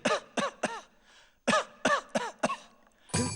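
A man on a Hindi TV serial coughs in a quick series of about seven sharp, close coughs that come in two clusters, followed by a short burst of noise.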